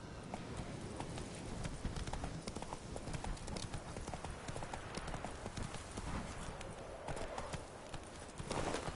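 A horse gallops in the video game Witcher 3, a rapid, continuous drumming of hooves at a steady fast rhythm, moderately close and dense throughout, with no one speaking.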